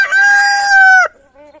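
A rooster lets out one loud, close crow, a long sustained cry that breaks off abruptly, followed by a couple of soft clucks from a farmyard chicken.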